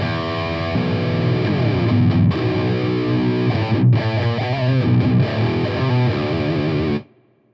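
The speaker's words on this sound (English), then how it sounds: "I'm using the distortion from the pedal as well." Electric guitar with distortion from a Boss GP-10 pedal, played loud and sustained with dense chords and riffs, fills about seven seconds before cutting off abruptly into silence.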